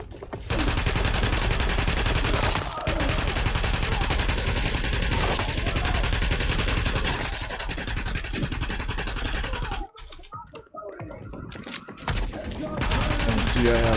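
Rapid automatic gunfire from The Division firefight, loud and sustained bursts with an SMG at close range, briefly dropping out near the end before resuming.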